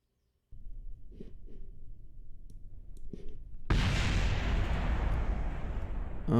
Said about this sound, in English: Oh god, what just exploded?